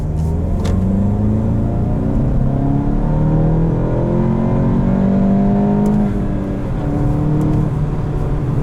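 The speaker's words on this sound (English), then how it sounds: "it pulls until redline" A car engine accelerating hard toward redline, a loud, steady, close roar whose pitch climbs through the gear with a brief dip before rising again, and no talk.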